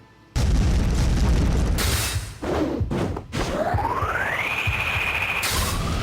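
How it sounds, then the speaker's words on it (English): Kirby's inhale sound effect in an animated fire-powered battle: a loud, roaring rush of wind with a rising whistle that climbs and then holds steady, following a booming burst. "That was the Kirby inhale sound effect."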